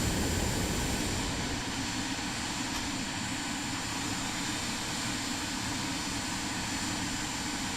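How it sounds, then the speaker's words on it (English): Aircraft flaps extending during a preflight check in Microsoft Flight Simulator 2024, heard inside a constant droning engine hum that stays loud and even throughout, with no talking. "Let's test the flaps, make sure they're flapping."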